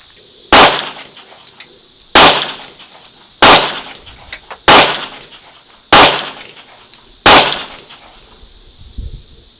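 A pistol fitted with a Vortex Venom red dot sight fires six loud, sharp shots at targets, spaced roughly a second apart, each with a short ringing tail.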